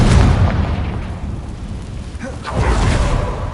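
Confringo spell blasts in Hogwarts Legacy: a loud, rumbling low explosion opens, decays into a noisy roar, then a second deep boom swells near the end, close and heavy.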